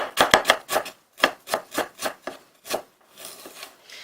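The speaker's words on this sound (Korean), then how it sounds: "생강도 동일하게 편을 썰고 그 다음에 채를 썰어줍니다." Knife slicing ginger on a cutting board, a steady series of about a dozen crisp close chops in uneven bursts, fading softer toward the end, with no talking.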